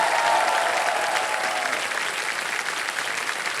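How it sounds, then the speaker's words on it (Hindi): A studio audience on the KBC quiz show applauds loudly and steadily, a dense wash of clapping with no voices above it. "तालियां बजती रहे"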